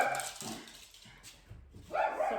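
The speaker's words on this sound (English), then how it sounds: "Sorry about my dog." A pet dog gives a few short barks and yips indoors, moderately close, separated by brief quiet gaps.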